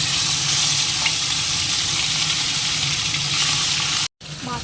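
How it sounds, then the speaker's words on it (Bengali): Snakehead (shol) fish pieces coated in salt and turmeric fry in hot oil, giving a loud, steady, dense sizzle that runs almost unbroken, with a brief cutoff near the end before the crackling resumes. "মাছটা তো নুন হলুদ মাখিয়ে এটাকে ভেজে নেবো"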